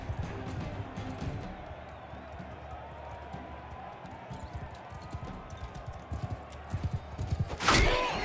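Horse hooves clip-clopping in Mount & Blade II Bannerlord, a faint patter under battle noise and talk, building toward a louder run of hoofbeats near the end.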